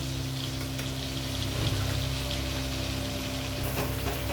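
Asafoetida tempering sizzles in hot ghee in a pan, a steady close frying hiss with faint crackle, continuous and without talk.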